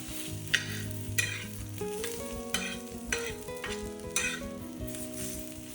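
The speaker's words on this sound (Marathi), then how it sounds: "खोबऱ्याचे सुद्धा बारीक बारीक काप करून तेल टाकून व्यवस्थित असं भाजून घ्यायचं" Thin slices of garlic, ginger and dried coconut roast in oil, a constant soft sizzle with rhythmic stirring scrapes about once a second, while faint background music plays underneath.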